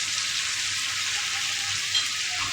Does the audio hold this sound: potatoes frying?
yes